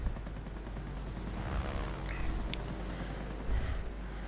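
Aircraft guns fire from a Grumman F5F Skyrocket in the World of Warplanes game, with muffled bursts blended into a steady, loud engine roar that continues throughout.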